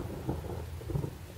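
Steady rain with low, rumbling thunder rolling underneath, continuous and moderately distant, no voices.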